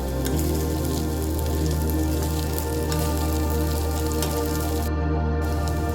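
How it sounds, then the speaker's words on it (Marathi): Kurdai, soaked wheat-based crisps cooked as a vegetable dish, sizzles steadily in a pan as red chilli powder goes in, a dense continuous crackle like rain that stays loud throughout. "अर्धा चमचा लाल तिखट पावडर आपण टाकूयात"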